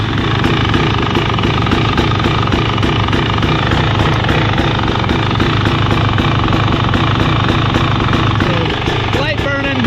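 A 2023 KTM 300XC two-stroke dirt bike engine idling close by, a loud, steady, rapid putter that holds an even rhythm for the whole stretch.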